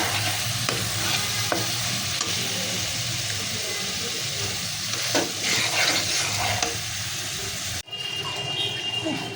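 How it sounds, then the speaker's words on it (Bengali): Mustard spice paste for hilsa curry sizzles loudly in a hot pan as it is stirred and sautéed, a continuous close frying hiss with scraping stir sounds and a brief dip near the end. "মশলাটা ভালোভাবে কষে নিতেছি"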